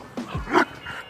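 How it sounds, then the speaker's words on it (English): A dog lets out a few quick, close yips and whimpering barks in short bursts, loud and excited, with no talking over it. "Sometimes the dog gets a little crazy."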